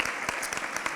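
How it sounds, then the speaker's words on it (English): A crowd gives a round of applause for Senator Ashby at a Sacramento civic gathering, producing a steady, dense wash of clapping for about a second, with no one speaking over it. "So just a round of applause for Senator Ashby as well for her great work."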